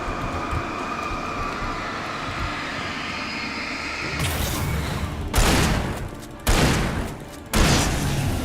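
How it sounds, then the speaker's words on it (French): A hunting shotgun fires three times in the Alan Wake video game, each blast a sharp close boom trailing into a decaying rumble, spaced about a second apart over a low ambient game drone. "Vraiment pas très puissant le fusil de chasse"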